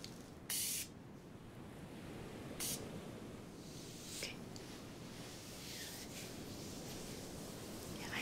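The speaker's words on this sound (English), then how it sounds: "I'm gonna spray a little bit on" Scented spray misted during an ASMR beach cabana role play, heard as a few short, soft hissing bursts spaced apart over a quiet, close background with no talking.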